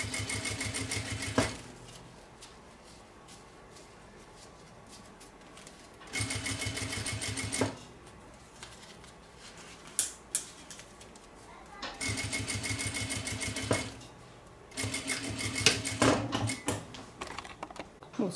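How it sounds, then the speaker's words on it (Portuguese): Sewing machine stitching a fabric toiletry bag, running in several bursts of steady rapid stitching separated by quieter pauses where someone talks. "passar a costurinha, ok? Ó, ajeitando aqui, passando a costurinha."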